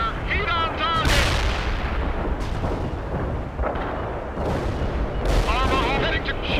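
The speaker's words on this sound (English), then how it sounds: "Heavy artillery firing at coordinates." Heavy artillery firing in the World in Conflict video game, Soviet Assault campaign: a continuous rumbling barrage of deep booms and blasts, with radio-style voice lines from units sounding over the bombardment.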